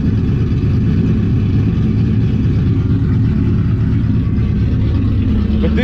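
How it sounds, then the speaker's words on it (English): Loud, lopey idle from a cammed car engine with its exhaust unhooked, a steady close rumble running throughout with uneven low pulsing. "Definitely lopey. It's loud, but the exhaust is unhooked."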